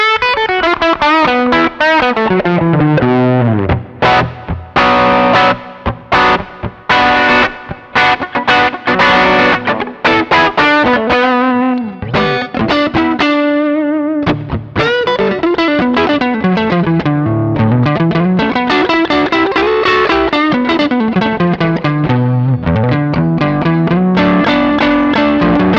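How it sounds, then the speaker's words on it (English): Electric guitar through a portable backup rig's SansAmp section with reverb switched on, a long distorted riffing passage with sliding bends and sustained notes, loud and steady throughout. "Turn the reverb on."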